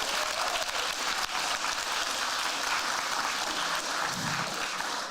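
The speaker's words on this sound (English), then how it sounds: "oh yeah, another applause" Sustained applause from a large crowd at a programming contest closing ceremony, a steady wash of clapping lasting several seconds without pause.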